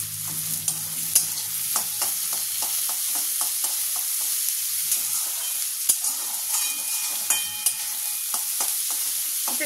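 Sliced onions being slowly stirred as they fry in a pan for onion posto, with a soft continuous sizzle and irregular light scraping taps of the spoon against the pan, close and alone without voices.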